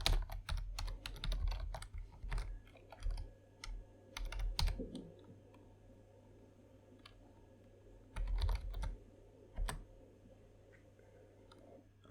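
Computer keyboard clattering as code is typed for a Python Discord bot, bursts of rapid close key clicks separated by pauses, alone with no voices.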